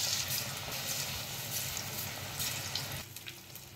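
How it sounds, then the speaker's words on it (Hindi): Potato slices sizzle and crackle in hot oil in a kadhai, a close, continuous frying hiss that drops away sharply near the end. "कढ़ाई में मैंने तेल पहले से ही गरम कर लिया है और अब इस आलू को हम इसमें"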